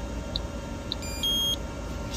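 A sous vide cooker's timer being set in the back of a truck, giving a few short high electronic beeps and then a longer steady tone over faint background hum.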